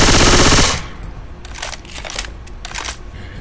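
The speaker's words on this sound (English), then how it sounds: "that Uzi has a silencer on it" Silenced Uzi in the Left 4 Dead 2 video game firing a short, loud burst of rapid shots, followed by scattered quieter clicks and game noises.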